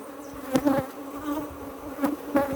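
Honeybees buzzing around a brood frame lifted from a hive, a close steady drone with a few louder passes as single bees fly by the microphone.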